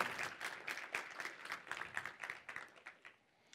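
A conference audience at PyCon claps for a speaker taking the stage, with brisk, dense applause that carries steadily and then thins out near the end.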